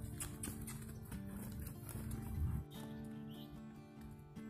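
Horse hooves clop rhythmically on the ground as the horse circles nearby, the steps loud at first and then easing off.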